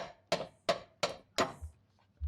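Five sharp metallic taps of a flat screwdriver being hammered against the side of a Samsung washing machine drum-shaft part, evenly spaced and close, each with a short ringing decay, then a low thump at the end.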